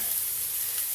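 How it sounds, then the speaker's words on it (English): Onions sizzle steadily in a pan over medium-high heat, just turning golden brown, a continuous close, even crackle with no pauses. "our onions are just starting to get kind of a golden brown. It's at a medium-high heat"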